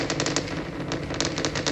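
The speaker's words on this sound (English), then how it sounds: "Every time you hear these bangs, that is a shockwave coming in." A Starship rocket launch with 33 Raptor engines lit delivers a dense, loud run of crackling shockwave bangs. The bangs arrive in rapid, uneven bursts like distant gunfire, carried over a steady roar with no voices.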